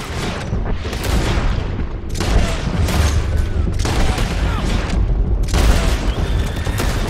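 Heavy gunfire crackles through a canyon chase in Red Dead Redemption 2, continuous volleys of rifle and pistol shots with booming reports, loud and close, and a shouted voice breaking in briefly amid the fight.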